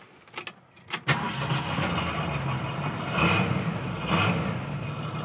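A 289 two-barrel V8 in a 1967 Ford Mustang coupe with a single exhaust cranks with a couple of short bursts, then catches and settles into a steady, rumbling idle close by, with slight revs.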